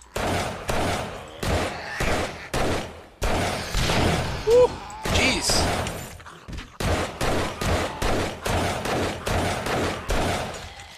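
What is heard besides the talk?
gunfire in the video game 7 Days to Die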